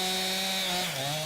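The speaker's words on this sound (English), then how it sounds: "Chainsaws revving" Chainsaws rev hard while cutting up a big fallen tree blocking a driveway during storm cleanup, a loud continuous engine whine that dips slightly in pitch near the end.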